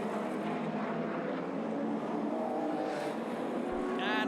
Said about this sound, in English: Lovely shot of the night of the SDI Rover going through